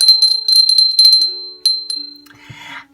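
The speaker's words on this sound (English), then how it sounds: "it is a dinner bell." A small antique dinner bell from around 1875, shaped as a figurine, rings loudly and close with rapid repeated bright tinkling strokes for over a second, then a few single dings that fade, followed by faint handling sounds.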